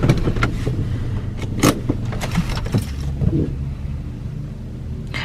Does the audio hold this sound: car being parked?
yes